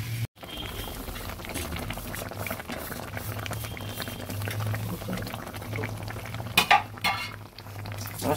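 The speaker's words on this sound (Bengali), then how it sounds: "মাছটা সুন্দর ফুটে উঠেছে" Pabda fish curry in mustard sauce with cashew bubbles and simmers in a pan, a steady close sizzling burble with a few light utensil clinks near the end.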